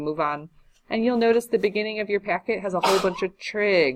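A single short sneeze from a student in a high school precalculus classroom, a quick broadband burst that cuts into the teacher's continuous lecturing.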